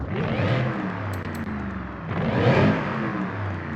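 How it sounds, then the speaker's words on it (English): A Mercedes SLS AMG engine in Forza Horizon 5 revs steadily with a whirring intake whine from an upgraded intake, rising again partway through, close and loud with no talking. "it's gonna have just a little bit more whine with the upgraded intake"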